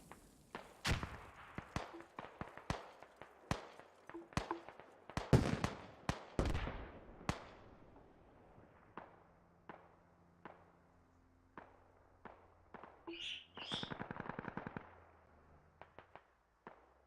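Mortar explosions in a military video game, a series of sharp distant thumps and booms scattered irregularly over a quiet background, with a brief burst of clatter near the end.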